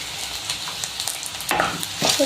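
Green chillies, garlic and curry leaves crackle in hot oil for a Kerala lemon pickle, a close sizzle with spatters that grow louder and busier toward the end.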